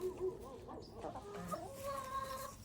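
Chickens clucking close by in a flock, soft murmuring clucks and a few higher calls over a faint background hum, fairly quiet.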